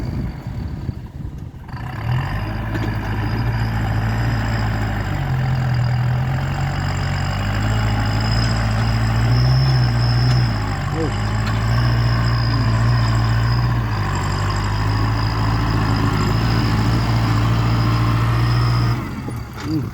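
A heavy truck engine idles steadily with a deep rumble, while a thin high turbo whistle hangs above it throughout.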